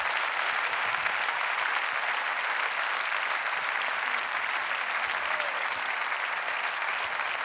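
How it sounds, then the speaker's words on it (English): Dense, steady audience applause fills the hall at the MotoGP awards ceremony for three young Moto3 championship riders on stage, loud and continuous from start to finish with no voices over it. "let's give them a big round of applause."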